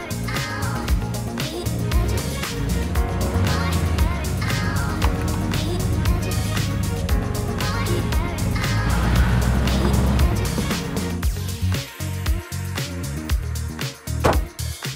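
A 1967 Austin Healey BT7 roadster, an English classic car, runs steadily and loudly throughout, its engine rumble dense with a broad tonal drone, dipping briefly near the end.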